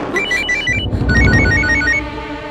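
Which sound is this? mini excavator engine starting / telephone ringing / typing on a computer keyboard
telephone ringing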